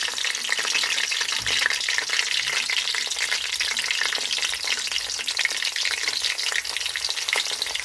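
Ginger garlic paste with spices fries in a pan for a Lahori chicken dish, giving a steady close crackling sizzle throughout, with occasional stirring scrapes and no talking.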